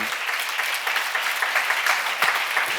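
A church congregation at a seminar applauds in a steady, moderately loud patter of many hands that runs for about three seconds with no speech over it.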